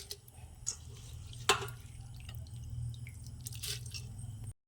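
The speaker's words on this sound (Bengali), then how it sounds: "দিয়ে দেব পরিমাণ মতো জল" Water goes into a pressure cooker holding home rice for egg biryani, a soft trickle and drip close by with one brief splash, fairly quiet overall.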